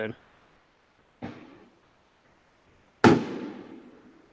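A fireworks sound effect plays as three sharp booming bursts, each decaying quickly, with the last burst loudest and fullest.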